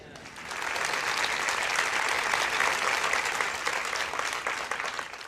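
Sustained audience applause from a church congregation, loud and steady for several seconds, fading slightly toward the end, with no one speaking over it.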